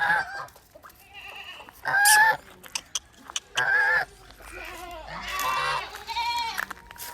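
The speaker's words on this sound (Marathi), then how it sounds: "तो आता मी बकरीला सोडायला आले" A goat on a farm bleats repeatedly in short, loud, wavering calls with quiet gaps between them. The calls sound close, with some background rustling.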